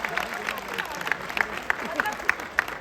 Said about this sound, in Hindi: तालियों के साथ बहुत बहुत स्वागत।